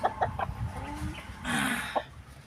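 Black Australorp chickens cluck in short, close, repeated notes, with a burst of scratchy noise midway and a few more clucks after it.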